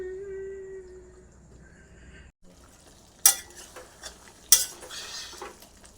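Curry with potatoes is stir-fried (kosha) in a pan, a low sizzle under the scrape and clink of a spatula, with two sharp metallic knocks against the pan, close and clear, after a quieter hum at the start.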